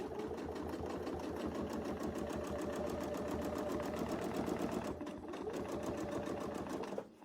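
A sewing machine stitches along a Westalee Design mini multi arc ruler template, running in a fast, steady close-up hum of rapid needle strokes for several seconds before slowing and stopping.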